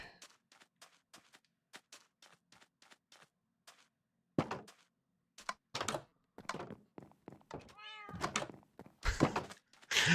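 A Minecraft cat meows several times over soft repeated clicks and thumps, the meows drawn-out and fairly close, with intermittent knocking in between.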